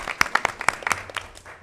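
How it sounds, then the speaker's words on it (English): A board of education meeting audience claps in a brief scatter of uneven, separate hand claps, loud up close and thinning out toward the end. "I know you want to clap, so we should clap"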